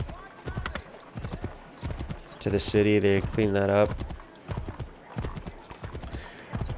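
Horse hooves clip-clop steadily through a crowded colonial city street in Assassin's Creed III Remastered, with a brief loud whinny midway, all under continuous talking.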